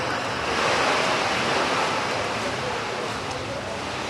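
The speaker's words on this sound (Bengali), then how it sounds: "বজ্রবিদ্যুৎ সহ বৃষ্টির সঙ্গে ঝোড়ো হাওয়া রয়েছে" Heavy rain storm with gusty wind at Kolkata airport, a dense, loud roar of rain and wind buffeting the microphone that stays steady throughout, with no clear voices over it.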